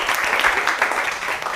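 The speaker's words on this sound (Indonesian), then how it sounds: "berikan tepuk tangan buat kelompok 3" Classroom applause for a student group that has just presented during a teaching practice session, brief steady clapping from the class, moderately loud and continuous, with no talking.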